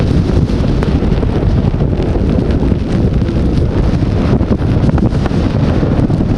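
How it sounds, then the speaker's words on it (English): Strong hurricane wind roars on continuously during Hurricane Katrina, a loud, unbroken rumble buffeting the microphone with constant gusty noise and no voices. "the wind is really popping now. Really popping."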